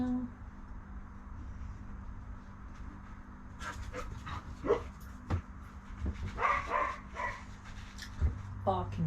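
A dog barks and yips in the background amid panting and whimpering, with a low constant hum and some voices nearby.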